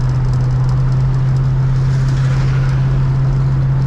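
Steady road rumble from inside a 1966 Ford Fairlane GTA convertible cruising at 45 to 50 mph, with a strong low drone and broadband tire and wind noise, constant and loud throughout.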